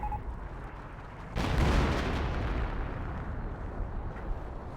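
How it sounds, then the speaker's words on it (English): A landmine blast in the Company of Heroes real-time strategy game: a sudden broad boom strikes about a third of the way in, then a rumbling roar decays slowly beneath continuous battlefield noise. "Landmine detonated"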